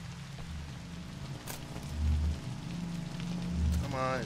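Steady rain falls in the video game Observer, a soft continuous hiss with low rumbling pulses underneath, holding at moderate level for a few seconds with no one talking.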